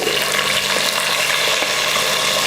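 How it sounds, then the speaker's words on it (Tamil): Onions sautéing in hot oil until golden brown for a vegetable dum biryani, a dense steady sizzle with faint stirring scrapes, close up and continuous, no voices. "நல்லா பொன்னிறமாக வர வரைக்கும் வதக்கிக்கோங்க. வெங்காயம் இந்த அளவுக்கு நல்லா பொன்னிறமாக வதங்கினதுக்கப்புறம் தக்காளி சேர்த்துடலாம்"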